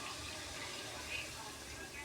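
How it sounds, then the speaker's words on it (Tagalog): A glass of water poured into a cooking pan of pork with ampalaya makes a soft, continuous liquid rush at low level, with a person speaking over it. "Lagyan nyo na isang basong tubig."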